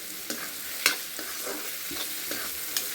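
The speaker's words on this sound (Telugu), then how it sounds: "ఇవి కొంచెం ఫ్రై కావాలి" Onions sizzle and crackle steadily in a hot pan, with a few brief stirring scrapes breaking through the continuous frying hiss.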